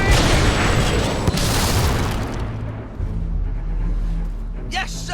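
Cannon fire and explosions in the game Fable 3: a loud booming blast rolls out and fades, followed by a lower rumble and a brief voice near the end.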